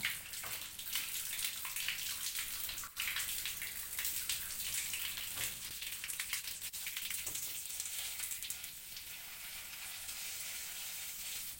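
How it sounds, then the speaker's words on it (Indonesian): Running water splashes and hisses steadily over the disassembled parts of a Sharp single-tub washing machine, a continuous close rinse with occasional knocks and shifts in the flow. "Kita siram dulu nanti pakai air"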